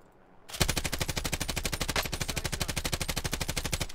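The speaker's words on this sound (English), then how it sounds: "Which one are you shooting at?" Rapid automatic gunfire from the video game Call of Duty Warzone, a sustained burst of evenly spaced shots starting abruptly and continuing loud and steady.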